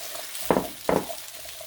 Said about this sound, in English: I'm going to go ahead and add the sausage and peppers and onions